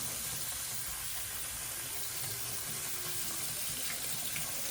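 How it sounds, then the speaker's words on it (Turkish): Tap water runs steadily into a bowl as rice is washed under it, a faint, continuous splashing hiss with no talking. "Pirincimizi güzelce yıkayalım."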